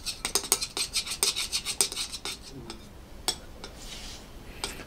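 Homemade slime being stirred as liquid starch is mixed in gives a quick run of sharp scraping, clinking strokes up close, which thin out to a few sporadic scrapes.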